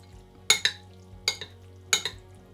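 Pasta alla Trapanese being tossed with grated pecorino: a spoon clinks sharply against the bowl in three pairs of quick strikes, close and fairly loud, with a soft low hum between them.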